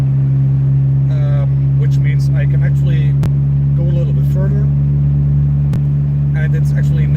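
Car exhaust fitted with a center muffler, heard from inside the cabin as a steady, loud low drone with a constant hum, while someone talks over it throughout.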